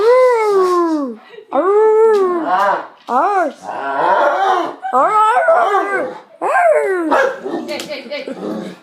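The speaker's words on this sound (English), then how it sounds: "Stop barking at the TV." A German Shepherd-type dog sounding off at a dog on a television, with a run of loud, drawn-out howling barks and whines in uneven bursts, up close indoors.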